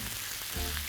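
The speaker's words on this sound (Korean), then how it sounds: "지글지글 거리죠?" Pork stir-fry with garlic and green onion sizzles in a frying pan, a brief, dense crackle of hot oil heard up close with no talking.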